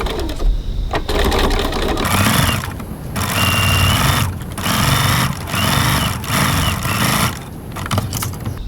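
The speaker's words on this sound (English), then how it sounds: "So now we're going to stitch our strap cuffs." A sewing machine stitches fabric strap cuffs with a quarter-inch seam at stitch length 2.4, running loud and close in several steady bursts separated by brief pauses.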